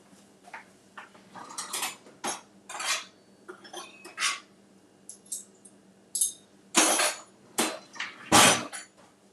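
Portable cooktop being pulled out and set up in a kitchen during a low-carb peach mousse class, heard as a string of clinks, knocks and clatters of metal and hardware, close and moderately loud, with no talk.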